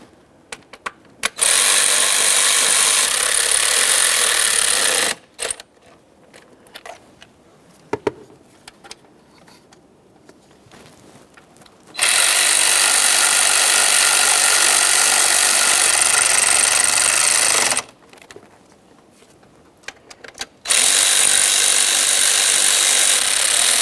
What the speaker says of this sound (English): we're going to snug these and torque these to 60 inch-pounds in a specific sequence